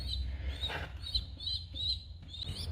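Pigeons heard as faint, high repeated chirps and peeps, several short calls spaced through a few seconds over a low background rumble.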